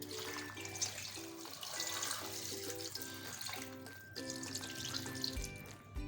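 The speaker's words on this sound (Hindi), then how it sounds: "और इसमें हम ऐड कर देंगे पानी।" Water runs steadily into a cooking pot of onion for several seconds, a continuous splashing rush with a faint metallic ring, no talking.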